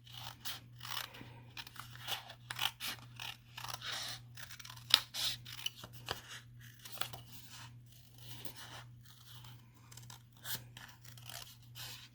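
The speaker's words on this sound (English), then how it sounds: "let's bring that sentiment back in and some snips. And we are going to just cut around our sentiment" Small craft snips cut around a paper stamped sentiment for a greeting card, giving a close series of crisp, irregular snipping and paper-rustling sounds over a faint steady hum.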